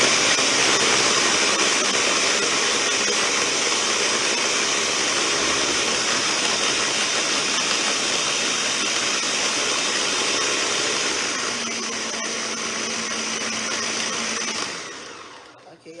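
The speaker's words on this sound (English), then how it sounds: "I'm gonna blend these jute leaves" Kitchen blender whirring jute leaves with water, a loud steady roaring motor that runs continuously for about fifteen seconds before winding down and stopping, close up and dominating everything.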